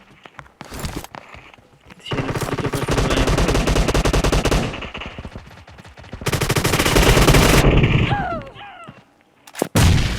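Automatic gunfire in a PUBG Mobile team deathmatch, long loud sustained bursts of rapid shots with brief gaps, a few sharp single cracks near the end.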